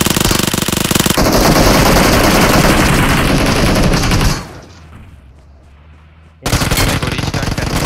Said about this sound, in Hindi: वो लोग गोली मार रहा है क्या?